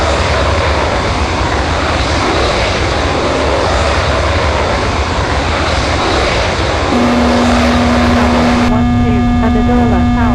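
An F-16 roars with steady jet engine noise during takeoff in the flight simulator game Falcon 4 Allied Force, loud and continuous, with tower radio chatter and warning tones layered over it.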